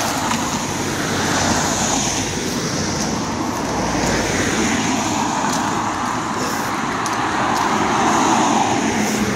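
On a UK street, a racing-style car passes through steady roadway traffic, its broad roar swelling near the end over a continuous wash of passing vehicles.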